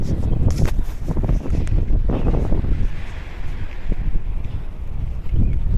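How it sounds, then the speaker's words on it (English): Strong wind buffets the microphone outdoors in rough, rumbling gusts, with some clattering and rustling up close. "It is still pretty windy out."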